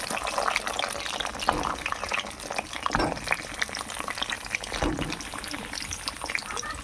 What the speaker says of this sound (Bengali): তেলটা আমার গরম হয়ে গেছে এর মধ্যে পটল কটা দিয়ে দেবো